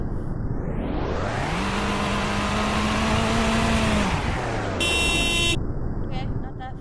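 The Terra, a game car, revving hard with a pitch that climbs, holds high, then falls back, loud and close, followed by a brief bright tonal burst like a horn.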